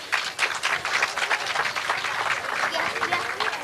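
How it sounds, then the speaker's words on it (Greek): An audience at a children's song performance on Kos applauds loudly, with fast, dense clapping that holds steady throughout and a voice briefly audible beneath it. "Θα ήθελα να τους δώσετε ένα χειροκρότημα."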